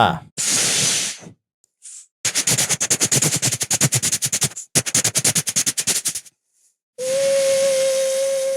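A voice imitates a passing steam train, with long hissing bursts, fast rhythmic chuffing puffs in two runs and a closing high whistle, close and loud.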